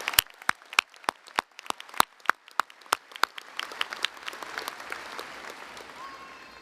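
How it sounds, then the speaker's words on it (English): At a university commencement, applause for newlyweds begins as sharp, evenly spaced claps from a single nearby pair of hands, then more people join and it swells into a spreading wash of crowd clapping. "would you do me a favor and join me in one more round of applause for Kayla and her new husband, Chris"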